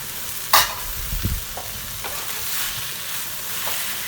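Chopped onions and tomatoes frying in a pan for an egg kurma, a steady soft sizzle with a few clinks of a spoon stirring against the pan, no voices.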